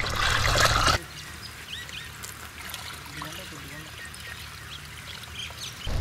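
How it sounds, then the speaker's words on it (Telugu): Five litres of cow urine poured into a container while preparing beejamrutham, a loud close gushing pour for about a second, then a quieter trickle with faint bird calls in the background. "ఇందులో 5 లీటర్ల ఆవు మూత్రాన్ని పోయాలి."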